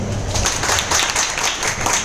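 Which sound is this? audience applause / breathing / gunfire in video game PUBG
audience applause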